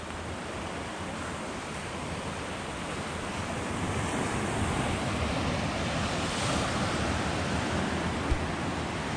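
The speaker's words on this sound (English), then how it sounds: "Just looking out towards the ocean now." Ocean surf rolls in steadily at Manly in Sydney in winter, a broad continuous wash of waves mixed with wind buffeting the microphone, with no talking.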